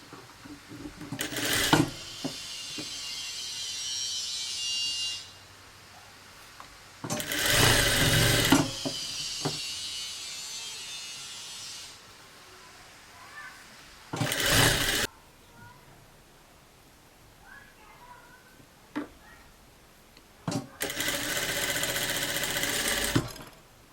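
A sewing machine runs a thin, fine hem along the bottom of a blouse in several separate bursts of steady whirring stitching, with quiet pauses between them.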